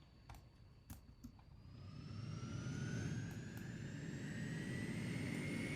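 Harrier jet in the SimplePlanes video game lifting off vertically, its engine whine rising steadily in pitch and swelling into a loud, sustained roar after a few faint clicks.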